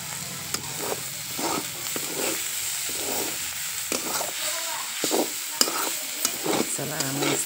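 Vegetable bhaji sizzles and fries steadily in an oiled pan while it is stirred repeatedly with a spatula, and someone speaks over the cooking.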